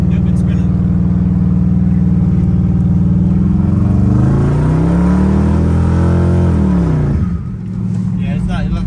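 A Ford Explorer revs hard with its tires spinning in cold conditions, the engine note climbing and falling in a loud, close roar before dropping away sharply near the end, with people talking over it.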